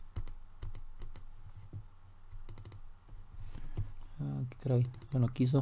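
Computer mouse clicks, several sharp dry taps spaced irregularly across a quiet room, followed by someone speaking.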